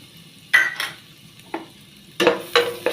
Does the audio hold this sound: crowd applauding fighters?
no